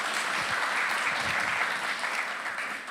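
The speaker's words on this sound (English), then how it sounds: "Give her a warm applause." A lecture audience gives warm applause for Malika, a full, even stretch of many hands clapping that tapers slightly near the end, with no talk over it.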